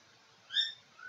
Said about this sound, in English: That's my bird.